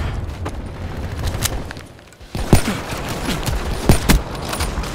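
Sniper rifle fire in Call of Duty Black Ops 3 multiplayer; several sharp shots and booming reports over a constant busy game background, with a louder cluster near the end.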